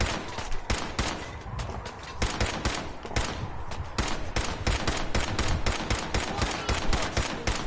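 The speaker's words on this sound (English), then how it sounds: "Eventually he'll run into the bullets that I'm shooting at him" Sustained bursts of rapid automatic gunfire from the video game Fallout 4, loud and dense throughout with only brief gaps between volleys, and no talking.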